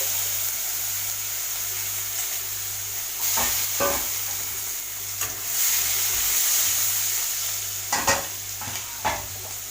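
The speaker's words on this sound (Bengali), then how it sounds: "এই তেলে কালো জিরে দিয়ে দিচ্ছি আমি কাঁচা পেঁয়াজ আমি এরম কুচি করে রেখেছি সেটা আমি দিয়ে দিচ্ছি" Chopped raw onion dropped into hot oil with black cumin and frying in a steady, close hiss, with a few scrapes and knocks of a utensil against the pan and no voices.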